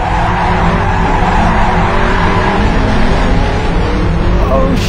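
Modified Honda CR-Z drifting in circles, a loud continuous roar of engine and skidding tires held steady throughout, close and unbroken.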